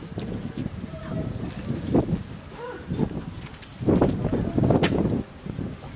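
Gusty wind buffets a microphone outdoors in Saint-André-les-Alpes in the Verdon, rising into a loud rumbling surge midway, with a few faint voices underneath.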